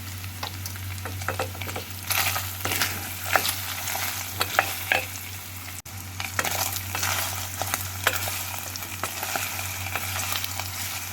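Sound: sautéing tomato paste in a pan

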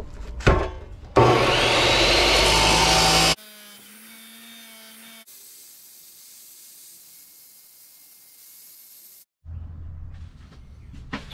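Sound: chop saw cutting a metal plate

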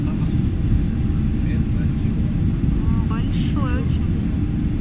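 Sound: airplane landing at New York airport

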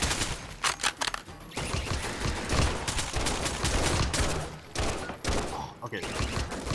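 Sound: turret gunfire in Roblox video game

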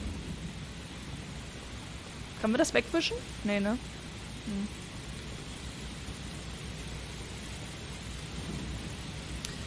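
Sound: rain and thunder in video game Heavy Rain

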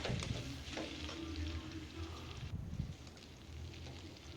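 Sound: bitter gourd frying in a pan

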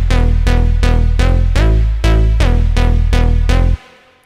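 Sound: synthesizer sound made in NI Massive/Sylenth, with chorus and reverb

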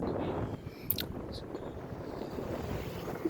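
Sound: riding on a motorbike

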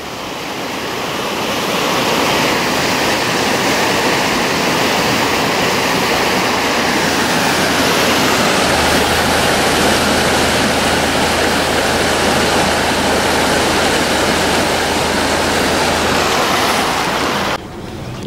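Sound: water rushing out of a canal lock

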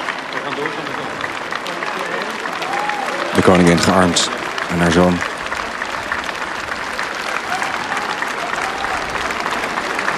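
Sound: cautious applause at a remembrance ceremony

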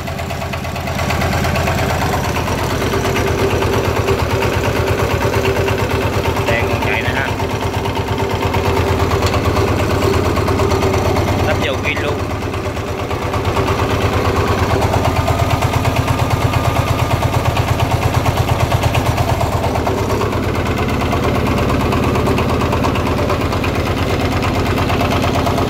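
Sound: Mitsubishi 11 hp engine running

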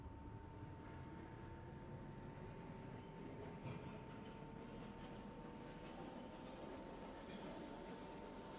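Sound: New York subway 3 train running

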